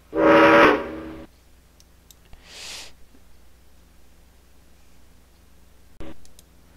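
A loud train whistle blast sounds from the Freight Train arcade game, followed by a fainter hiss and quiet ticking with a short click near the end, with no talk.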